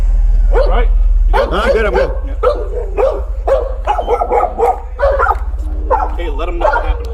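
Loose, aggressive dogs in a neighborhood bark loudly and repeatedly in bursts, some yelping and whining, close by amid tense shouting and talk during a police encounter.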